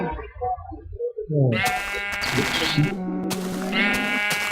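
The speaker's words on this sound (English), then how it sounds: "That sheep should have gotten better." Sheep in the video game Minecraft give loud, wavering bleats, close and repeated in bursts, after a few softer game sounds at the start.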